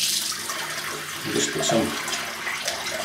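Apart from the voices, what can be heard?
water poured onto shaving brush and soap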